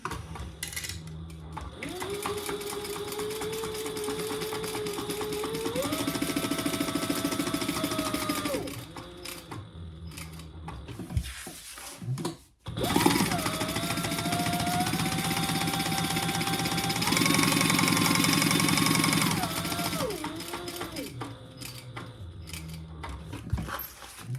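A sewing machine stitches a small traveler bag in long steady runs, its motor whirring at rising speed, pausing briefly midway before a second sustained burst of stitching.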